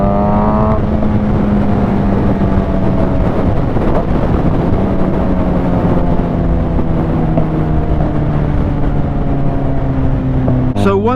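2011 Suzuki GSX-R 750 motorcycle cruising on a highway in sixth gear, a loud steady engine drone with slowly shifting pitch under heavy wind rush.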